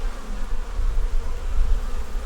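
Honeybees buzzing on a hive frame holding nectar and pollen, a dense low drone that swells and fades slightly, close and steady with no talk.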